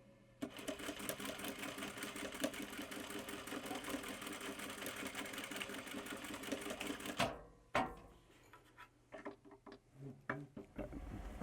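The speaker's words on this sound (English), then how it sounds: "I need to essentially just run stitching across this guy" A sewing machine runs a long continuous stitch across a sling, a fast steady mechanical whirring for about seven seconds, then stops and is followed by brief handling clicks and shuffles.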